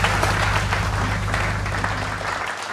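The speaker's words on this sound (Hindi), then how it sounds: "उनके लिए एक जोरदार तालियां।" Audience applause at a bhajan performance event, dense continuous clapping from a crowd, loud and sustained before fading slightly at the end.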